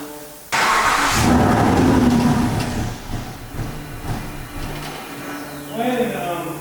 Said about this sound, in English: When the car starts, just put it off. Crank it again.